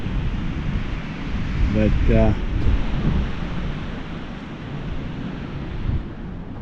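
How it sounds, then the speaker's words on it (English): Wind blows outdoors during a bomb cyclone in the Pacific Northwest, a broad steady rushing roar, with a brief spoken word partway through. "The wind's still blowing"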